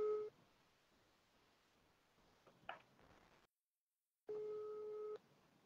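WhatsApp call ringback tone heard close up as a steady electronic tone that sounds in two stretches, with quiet gaps and a brief click between them.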